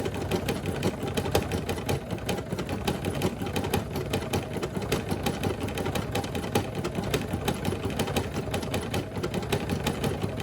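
A Brother SE1900 embroidery machine stitches a design onto a hat, running as a steady, close, fast mechanical whir with dense rapid needle clatter that stays level throughout without pause.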